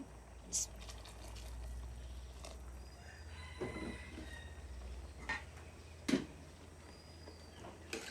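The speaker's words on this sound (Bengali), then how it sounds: "কারণ আমি এখানে একটু পানি দিয়ে দিই" Water is poured into a pot of beef khichuri in a home kitchen, a faint, soft trickle under low background rumble, with a few light clicks.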